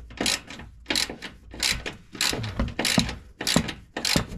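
A ratchet wrench loosens a 13 mm nut on a sway bar link of a Dacia Duster, with a run of loud, close, rhythmic bursts of clicking strokes and short pauses between them.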